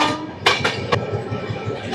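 Howrah–Bengaluru Duronto express train passing through Katpadi junction, with a few sharp broadband bursts over a steady rumble of rolling wagons, heard close with no talk.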